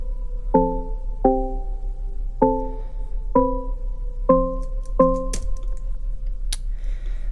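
Electronic synth chords from a house track play as six evenly spaced stabs, each sharp and decaying, over a low steady hum, followed by a few faint clicks and a soft hiss.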